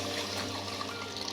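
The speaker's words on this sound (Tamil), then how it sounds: "அந்த பருப்பு தண்ணியை எடுத்து இதில் ஊற்றுங்க" Dal water is poured into a pan of cluster beans for Tanjavur-style sambar, giving a soft continuous splashing pour that stays even and fairly faint throughout.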